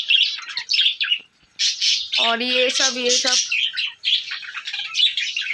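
Caged pet pigeons, including a hen sitting on eggs, make repeated close, shrill squawks and chirps, and someone speaks briefly over them partway through.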